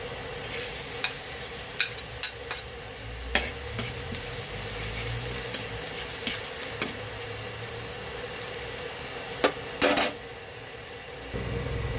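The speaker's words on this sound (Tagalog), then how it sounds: "Mag-isa na tayo ng sibuyas, bawang, suya, ating scabeche mga kabab" Onion and garlic sizzle in hot oil for bangus escabeche, with a steady crackle of frying and spatula stirring clinks and scrapes throughout, close and fairly loud, with no voices.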